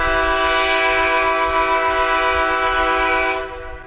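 A train horn in an animated children's show gives one long, loud, sustained blast. The rich steady chord holds for over three seconds, then drops off sharply at the end, with no talking.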